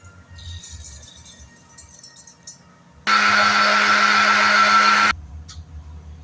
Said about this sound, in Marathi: ते आता मिक्सरच्या भांड्यामध्ये आपण बारीक करून घेऊया.